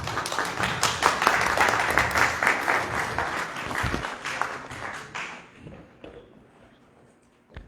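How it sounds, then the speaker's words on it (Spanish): An audience at a Mexica calendar congress applauds a lecturer, dense clapping from many hands that stays strong for several seconds, then thins out and fades away to near quiet. "vamos a dar un aplauso al maestro David para que comience."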